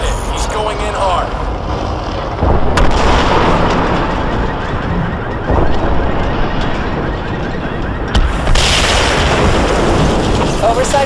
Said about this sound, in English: Target locked. Missile away. Confirmed missile hit.